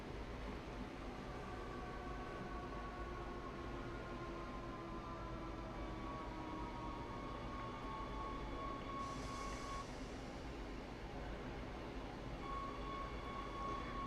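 Electric rapid transit train in the Leipzig scenario of Train Sim World's Rapid Transit add-on, slowing into a station: a steady low rumble and rolling drone with a thin whine gliding downward, then a brief hiss near the end, no talking.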